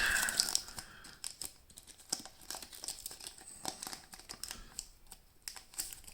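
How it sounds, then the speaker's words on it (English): A small plastic card baggie crinkles and rustles close up as fingers work it open, quiet scattered crackles with a few sharper clicks. "if I can get this little card baggie open"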